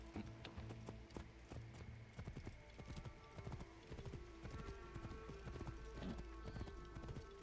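Horse hooves in Assassin's Creed Origins clip-clop steadily and briskly along a road, a continuous rhythmic trot heard close and clear over ambient game sound.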